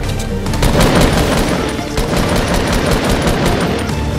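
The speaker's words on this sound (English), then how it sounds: "They're skeet shooting me right now." Rapid bursts of gunfire in a Fortnite Battle Royale match, loud and dense with overlapping shots and low booms running throughout without pause.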